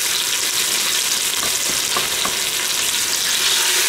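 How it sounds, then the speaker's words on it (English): Oxtail searing in olive oil and butter inside an Instant Pot, giving a steady close sizzle and frying hiss throughout, with a few soft clicks of the pieces being moved about. "I'm going to sear them on all sides."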